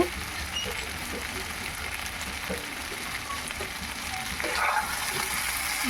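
Mutton curry spices fry and sizzle in a pan, a steady close crackling hiss with occasional stirring scrapes and no voices.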